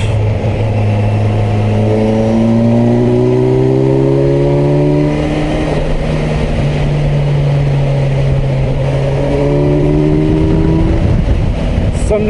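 A 2021 Kawasaki Versys 1000 SE four-cylinder motorcycle on the road, heard as a loud, steady engine drone that climbs in pitch, drops briefly and rises again as it shifts down to fifth, under strong wind rush.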